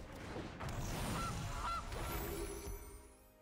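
A goose card in the MTG Arena digital card game gives a pair of short, nasal honks over a busy bed of game effects and ambience, with no talking.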